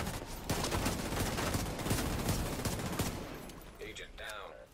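Rapid, dense gunfire rattles in bursts during a PvP fight in The Division 2, loud and sustained for several seconds before dying away as a voice speaks at the end.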